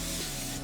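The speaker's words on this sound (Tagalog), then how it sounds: "I'm going to use this Snowy Beauty OMG Energy Perk Me Up Facial Mist." A Snowy Beauty OMG Energy Perk Me Up facial mist bottle gives one continuous close, loud spray hiss that lasts the whole moment, with no talking.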